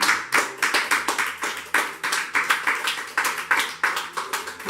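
A church congregation at a Sunday service claps to acclaim the Lord, with steady rhythmic claps from many hands and a faint sound of voices underneath.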